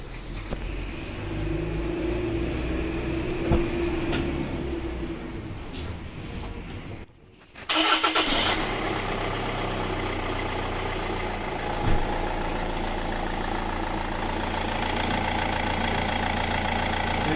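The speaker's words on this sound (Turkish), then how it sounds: "Arabayı bir çalıştıracağım." A Land Rover Freelander engine cranks after a brief pause, then settles into a steady, low idle that runs on evenly.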